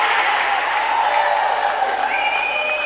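Crowd applauding sharp fielding at a cricket match between Strathpine Burras and Springwood Scorpions, steady dense clapping with some cheering, fairly loud and continuous, with a commentator speaking over it.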